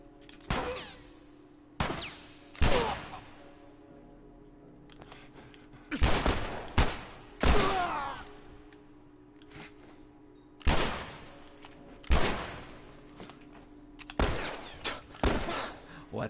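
Gunfire in The Last of Us video game, with sharp bursts and volleys of shots scattered across the stretch, some in rapid clusters, loud and close over a low steady background.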